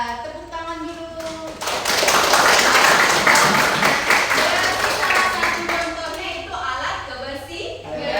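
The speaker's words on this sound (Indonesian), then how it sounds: "tepuk tangan dulu" A classroom of students claps hands together, a loud dense burst of clapping rising after a short spoken exchange, then fading as talking resumes.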